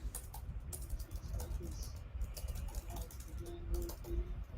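Computer keyboard typing in a room, a quick run of soft, irregular clicks and taps at moderate closeness with a faint background hum.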